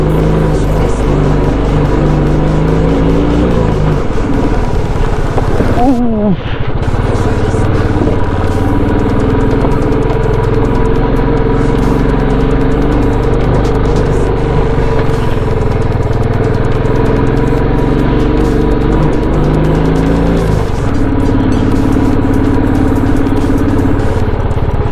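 A vehicle climbs the Jharipani trekking trail in Uttarakhand with a loud, close, steady engine drone. The pitch shifts briefly as it changes load partway through, and no one speaks.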